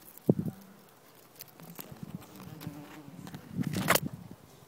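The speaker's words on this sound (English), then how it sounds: "that's where the wasps are going in and out." European wasps (Vespula germanica) flying in and out of a hole beneath a greyish garden nest, close intermittent buzzing passes that swell loudest near the end, with no talking.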